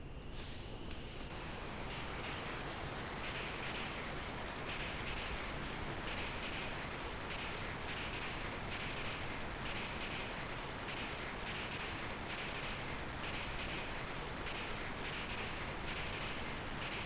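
A train in Final Fantasy 8 Remastered runs in a steady, loud, unbroken rumble with a faint rhythmic clatter, continuing throughout with no voices.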